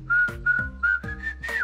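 A person whistles a few short, clear notes with brief pauses, ending in a rising and falling phrase, close and alone.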